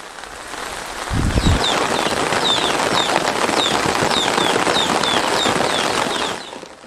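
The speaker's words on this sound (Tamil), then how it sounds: "இதேபோன்று திருவாரூர் மாவட்டத்திலும் பரவலாக கனமழை பெய்தது." Heavy rain pours across Tiruvarur district in Tamil Nadu as a loud, steady hiss. A low thump sounds early on, and faint bird chirps repeat through the downpour.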